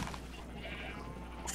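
Sheep bleat in Minecraft, a single short, fairly faint bleat sitting under a steady background hum.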